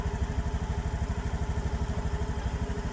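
A Honda Beat Eco motorcycle engine idles with a steady, rapid, rhythmic putter, close and moderately loud, with no voices.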